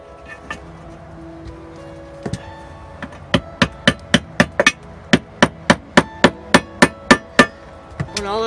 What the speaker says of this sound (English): All else fails, get a bigger hammer